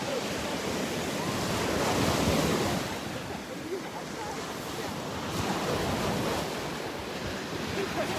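Waves wash in and out on a beach at Delnor-Wiggins park, with a broad steady roar that swells and eases, and wind buffets the microphone throughout.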